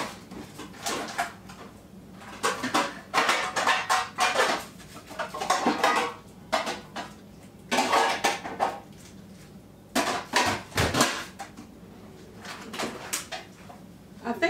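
Metal Wilton meatloaf pan clattering and scraping against other cookware in a kitchen, a series of sharp clanks and rattles in irregular bursts, near and fairly loud.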